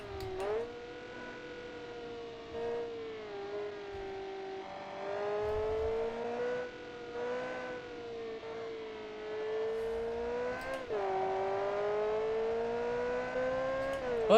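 Turbocharged Taylor Tercel engine in BeamNG revving and accelerating through the gears, a steady droning engine tone that climbs in pitch, drops at several gear shifts and climbs again, fairly close and clear with no talk.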